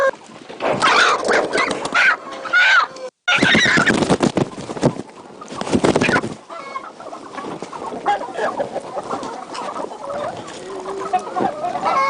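Chickens on a poultry farm cluck and squawk loudly and almost continuously. Many overlapping calls come from close by, with one very short break early on and a slightly calmer stretch later.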